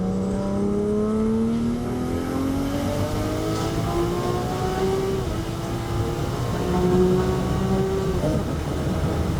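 A BMW 340xi accelerates hard, engine pitch climbing steadily through the gears with brief dips at each automatic shift, loud and close from inside the car, without talk.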